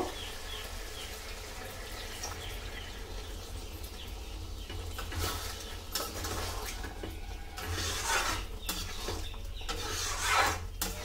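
Chicken masala being stirred and fried in a pan, with repeated scraping and rubbing strokes of a utensil against the pan over a low sizzle, uneven in rhythm and moderately close.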